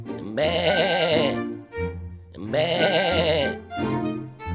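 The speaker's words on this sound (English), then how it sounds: "It's a sheep!" A toy farm animal sheep gives loud, close, wavering bleats, two long bleats each followed by quieter, shorter noises.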